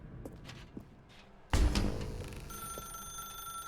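A telephone rings in The Stanley Parable video game, a loud bright ring starting abruptly mid-clip over quieter footsteps-like background, then a sustained tonal ring continuing steadily to the end.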